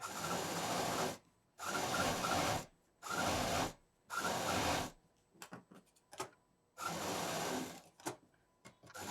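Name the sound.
sewing machine stitching a long fabric strip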